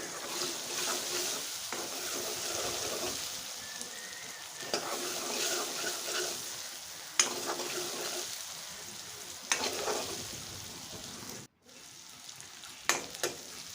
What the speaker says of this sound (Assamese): আপুনি ভালদৰে ৰঙচুৱাকৈ ফ্ৰাই কৰি ল'ব